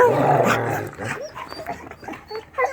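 A dog gives a short, close growling bark followed by quieter whimpering and rustling sounds, with no talk.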